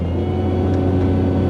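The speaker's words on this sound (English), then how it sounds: "The exhaust is, I mean, it's pretty loud." A 1999 Pontiac Grand Prix GTP drones loudly from inside the cabin, its exhaust a steady low hum with a slight rise as the throttle opens, constant and close throughout.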